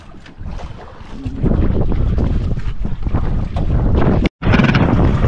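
Strong sea waves churn around a small fishing boat out at sea, giving a loud, rushing wash mixed with gusting wind buffeting the microphone and a brief cut in the sound near the end.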